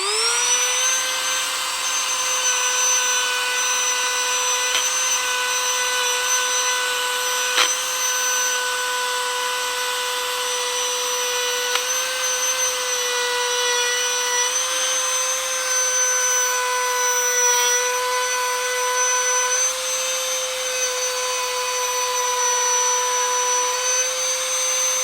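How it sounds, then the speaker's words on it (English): A Dremel rotary tool polishes an AK trigger at high speed, giving a loud, steady high-pitched whine that holds for the whole stretch with small shifts in pitch. "And then we're going to crank it up, because the thing with Dremels is the speed is actually what's doing the work"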